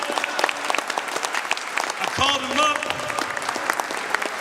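Audience applause at a Nat Turner Day community gathering, a steady wash of many hands clapping throughout, with brief voices and a whistle-like tone rising over it midway.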